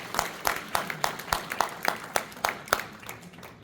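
Audience at a Clay Township, Michigan board meeting clapping in a room, about a dozen sharp, fairly even claps at a steady rhythm before fading out.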